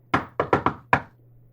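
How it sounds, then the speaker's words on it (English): Five sharp knocks on a door, close and loud, in an uneven pattern of one, three quick raps, then a final one, followed by a faint steady hum. "he knocks on their door politely"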